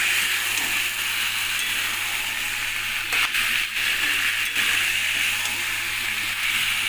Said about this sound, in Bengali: সয়াবিনটা দেওয়ার পর যতক্ষণ না তেল ছাড়ছে ততক্ষণ নাড়াচাড়া করে কষতে থাকবো